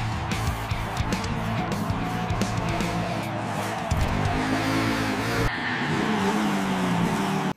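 An AI-generated race car scene: a loud engine revving hard, with skidding tire squeals, running continuously and close for the whole stretch before cutting off abruptly.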